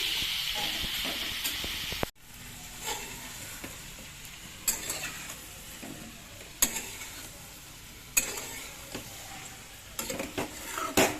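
Chicken with sesame seeds fries in a pan while a spoon stirs it, giving a soft hiss broken by sharp scrapes and clinks against the metal; a loud clatter opens the sequence.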